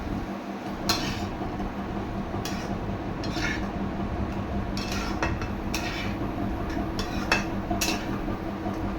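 A cooking pot of taro and spices is stirred with a utensil, giving repeated scraping and clinking strokes of metal against the pot over a steady background hum, close and moderately loud with no talk.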